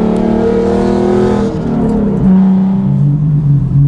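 A 2014 Genesis Coupe fitted with a full exhaust revs loudly and close by, its deep engine note climbing and falling through several throttle blips with no talking over it.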